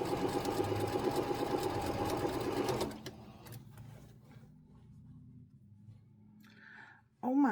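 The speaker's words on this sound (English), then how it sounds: "I'll figure that out as I start sewing the larger pieces together." A sewing machine runs steadily with a fast, close mechanical whir while stitching quilt pieces, then stops abruptly, leaving faint handling noises before a voice briefly speaks.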